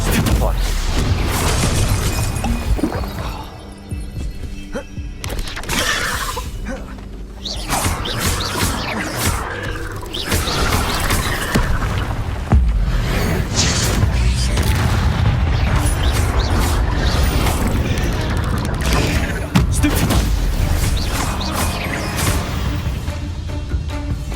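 Fire spells cast in Hogwarts Legacy burst and whoosh with booms and crackling impacts, loud and continuous through a busy stretch of combat, with a voice talking over the action.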